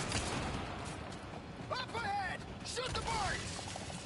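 Minecart rolling in Resident Evil 4 Remake during a mine cart ride, a steady mechanical rumble with creaks and squeaks, under bits of voice and game effects.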